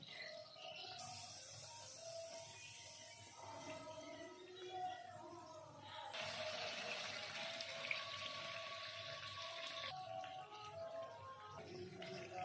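Pea-stuffed kachori fried bread crackling in hot oil, a steady sizzle that swells louder partway through, with a voice talking over it.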